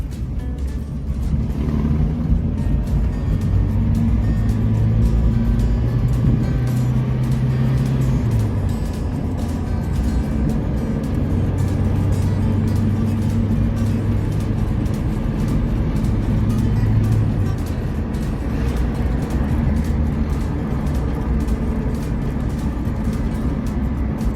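Interior drone of a first-generation rear-drive Mitsubishi Lancer engine while driving, a continuous loud low rumble with gear-related pitch shifts and road noise throughout.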